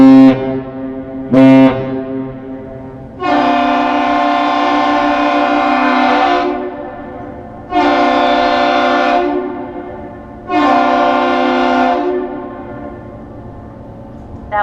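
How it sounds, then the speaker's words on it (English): Deep, loud horn blasts trade back and forth between the lake freighter American Century leaving Duluth harbour and the lift bridge, a captain's salute of one long and two short calls with a couple of brief blasts before it, each ringing with rich harmonics. "That one long and two short whistle exchange that you heard between the ship and answered by the lift bridge is the captain's salute."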